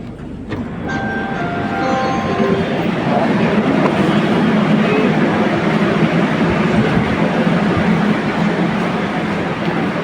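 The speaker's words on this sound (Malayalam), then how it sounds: "ഹലോ, പുറത്ത് ട്രെയിൻ ഉണ്ട്" Outside, a train rolls past loud and close with a continuous heavy rumble and rattle of wagons, and a brief horn-like tone sounds near the start.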